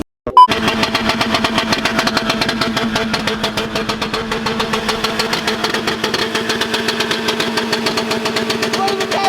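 A Mazda RX-8 rotary engine runs and revs at a car meet, giving a buzzy, motorcycle-like rasp with a fast pulsing rhythm that holds loud and close throughout, with crowd chatter faintly underneath.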